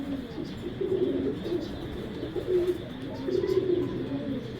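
A female racing pigeon and others nearby coo in low, rolling repeated calls, close by, with faint chirps and a quiet background.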